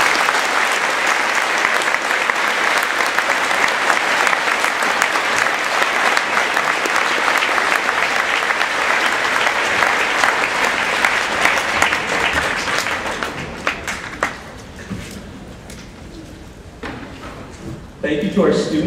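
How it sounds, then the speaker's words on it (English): Sustained audience applause at a high school Veterans Day program in a large hall, loud and dense for about thirteen seconds before tapering to scattered claps. "Please join me in a round of applause."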